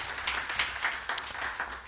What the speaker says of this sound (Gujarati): માટે તાળીઓથી એમને વંદન કરીએ